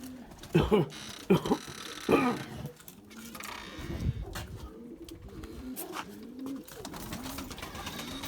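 Pigeons cooing in a coop: several throaty, rounded coos in the first few seconds, then softer murmuring throughout, with someone talking at times.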